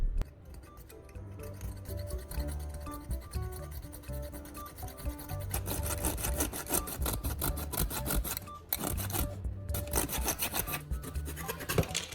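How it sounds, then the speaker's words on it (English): A PVC pipe is sawn by hand to cut off a ring, giving a continuous rasping back-and-forth stroke rhythm that grows louder and denser partway through, close up with no speech. "Then cut a ring from the front of the PVC pipe using a saw or a sharp knife."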